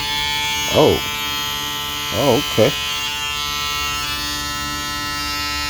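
A Magnifeko 100xx foil electric shaver runs with a continuous steady motor buzz throughout, close and loud, while someone briefly speaks over it.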